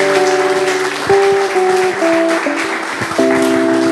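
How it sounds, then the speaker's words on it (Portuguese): Church congregation clapping in praise during a service, a steady patter of many hands heard with sustained organ or keyboard chords and voices continuing alongside. "as palmas louvem ao Senhor"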